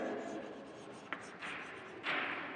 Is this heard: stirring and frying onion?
no